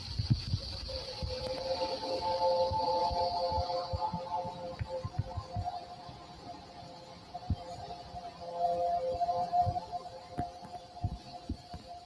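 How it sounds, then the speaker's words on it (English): A low metallic humming noise, faint and steady, drones through the whole stretch with a thin high whine above it, under scattered crackles and low rumbles of outdoor noise. "this definitely sounds like some sort of mysterious buzzing noise"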